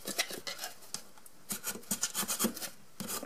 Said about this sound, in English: get your bone folder and just make sure that you have reinforced those